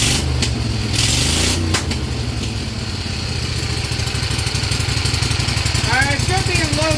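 A Vanguard 16HP lawn tractor engine cranks and catches after a brief start attempt, then runs with a steady, loud chugging idle while a voice speaks briefly near the end.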